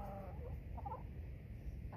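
Chickens in an icy, frozen yard give a few soft, faint clucks against quiet background noise, with no talking.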